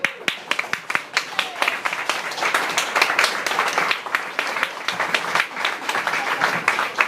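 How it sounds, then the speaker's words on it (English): Audience applause in a hall, a dense, steady clapping that carries on for several seconds with a few louder individual claps standing out. "Stand up and give Samuel a big round of applause."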